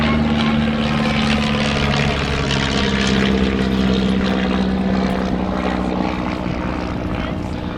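A Miles Magister propeller trainer aircraft drones steadily overhead at an airshow, its engine hum loud and continuous throughout, with faint voices in the background.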